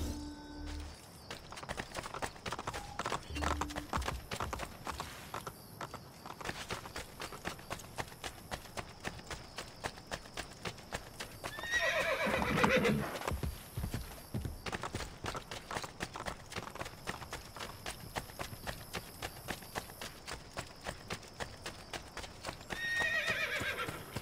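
Horse hooves and neighing in the video game Assassin's Creed Brotherhood, a steady rapid clip-clop of galloping close by for the whole stretch, broken by loud whinnies, with game music underneath.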